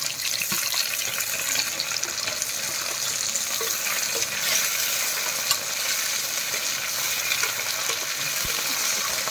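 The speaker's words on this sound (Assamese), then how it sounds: "পিঁয়াজ দিলোঁ তাৰ লগতে কচুটো দিলোঁ। কচুটো ভাজি ল'ম আগতে" Onion and taro cubes fry in a hot pan with a steady, close, even sizzling hiss that runs without a break for the whole stretch. No one speaks.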